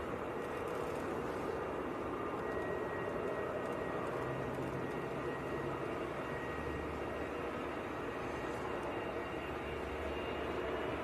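An EasyJet Airbus A320 jet taxis at Manchester airport, a steady broadband engine rumble and whine held at a fairly constant distance for the whole stretch, with no voices over it.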